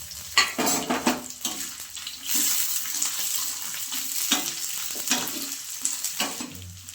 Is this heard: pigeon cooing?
no